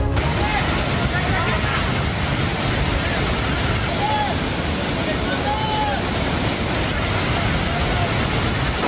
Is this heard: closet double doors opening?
no